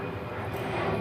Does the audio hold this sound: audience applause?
no